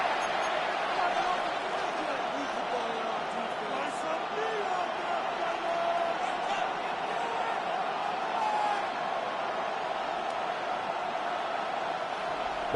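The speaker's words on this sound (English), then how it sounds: "This crowd into it now as we get to third down." A stadium crowd in an EA Sports NFL football video game gives a sustained, steady roar heading into a third down, running under a commentator's voice.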